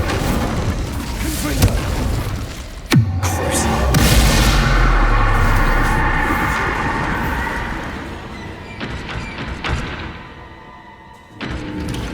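A deep booming whoosh of the Incendio fire spell cast in Hogwarts Legacy, with a sharp onset, then a sustained roaring rumble that slowly fades, followed by a few scattered crackles.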